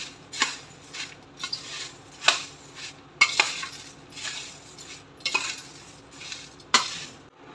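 A spoon stirs dry bhel in a bowl, giving repeated scraping and clinking strokes in an irregular rhythm, close and fairly soft, with no voices.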